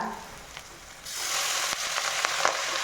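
Moringa leaves drop into onions frying in a pan for a thoran, the quiet sizzle swelling abruptly into a louder, fuller hiss that continues with scattered crackles and light stirring taps.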